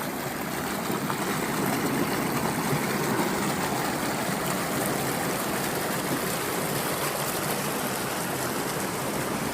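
A steady, even rush of river water flowing and foaming over rounded boulders at Mele Mulli, a continuous broadband wash with no voices, moderately near.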